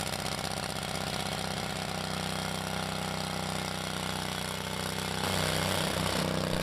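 A portable pump's small engine runs steadily at close range, a loud continuous buzzing drone with a slight shift in pitch toward the end as the throttle is adjusted, with no voices.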